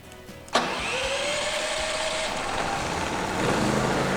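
A portable generator engine starts with a sharp burst and then runs at a steady, loud, even drone with a rising whine as it settles, close by and without voices.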